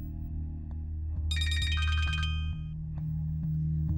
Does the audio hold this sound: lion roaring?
no